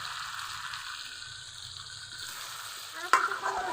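Crab with onion, chilli and sweet pumpkin stir-fries in a pan with a continuous, fairly quiet sizzle, broken near the end by one sharp clatter of a utensil against the pan.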